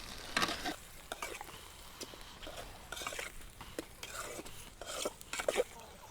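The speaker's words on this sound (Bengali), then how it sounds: "সুন্দর করে নেড়ে নিব" Potatoes, onions and green chillies being stirred in a pan, giving soft scraping and light sizzling with irregular clinks of the spoon against metal, close by and moderately quiet throughout.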